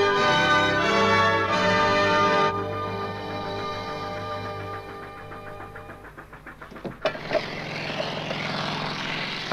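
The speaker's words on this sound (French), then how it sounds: "Un hélicoptère survole les lignes." A helicopter flying overhead: droning engine with steady harmonic tones, loud at first then easing, followed by a sharp burst and broadband rushing noise toward the end.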